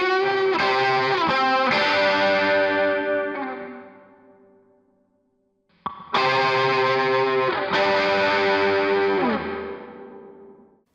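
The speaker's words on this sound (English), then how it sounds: "This is also being fed to the lead guitar reverb right here, which is that Reverb Plate 140 that I like so much." A distorted lead electric guitar is run through a Reverb Plate 140 plate reverb, with two sustained chords each ringing out into a long reverb tail that fades toward silence before the next strike.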